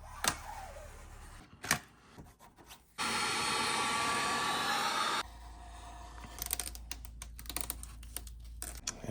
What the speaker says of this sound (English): Use the heat gun, heat it up, squeeze it, let it cool down.